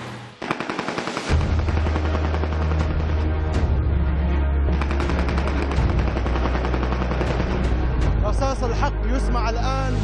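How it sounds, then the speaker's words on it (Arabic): Celebratory gunfire from soldiers in Jobar, Damascus: dense, continuous bursts of automatic weapons fire, loud and sustained for the whole stretch, with background crowd noise and voices mixed in. "ما يسمع خلفي الآن هو رصاص واحتفالات رجال الجيش العربي السوري"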